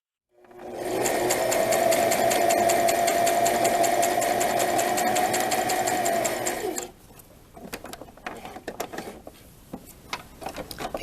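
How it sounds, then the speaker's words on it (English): A sewing machine stay-stitches along the neckline of an eyelet blouse, running at a steady fast whir for about six seconds before stopping, leaving soft clicks and handling noises. "I'm doing the stay stitching all along the neckline now."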